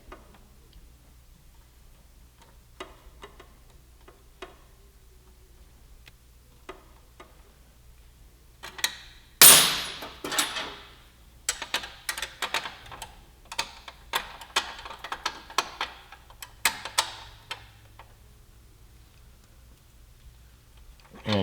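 Wrench tightening an exhaust mount bolt on a 2015–2017 Yamaha YZF-R1M during a slip-on exhaust fit: a string of quick ratcheting clicks, sparse at first, then denser in bursts with a sharp clank midway, close by and fairly quiet.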